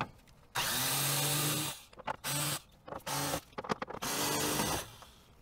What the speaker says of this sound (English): So let's put that in a driver and spin them out.